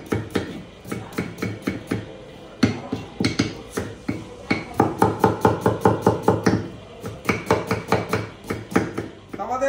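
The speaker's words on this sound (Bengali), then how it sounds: "পেঁয়াজটা কাটছি" A knife chops an onion on a board after capsicum was cut, for a home-style fried rice, making brisk, rhythmic, close-up thuds in quick bursts with short pauses.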